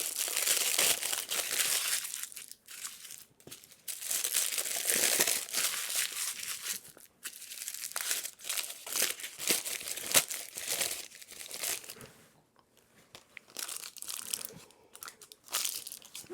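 Parchment or paper sheets crumpled by hand while preparing a vintage 1939 Australian Brazilian stew in a jar, giving steady close crinkling and crunching in bursts with brief pauses, no talk.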